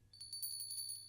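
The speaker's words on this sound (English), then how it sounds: "little bell" A small bell rings in quick, repeated tinkling strikes, bright and fairly faint, with a low hum in the background.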